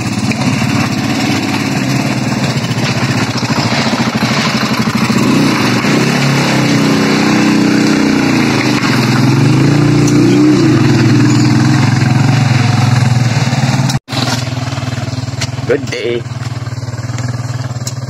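A motorcycle engine runs loud and steady at close range in a Floridablanca, Pampanga setting, its drone continuous throughout with a brief cutout near the end, while a voice speaks briefly over it.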